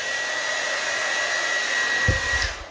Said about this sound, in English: Can you unplug my hairdryer?